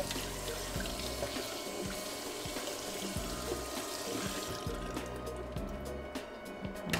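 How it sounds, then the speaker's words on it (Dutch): Cold tap water runs steadily into a sink as freshly blanched vegetables are rinsed, a continuous close splashing stream that ends in a few clinks and drips. "Deze spoel ik even af met koud water, zodat hij niet verder"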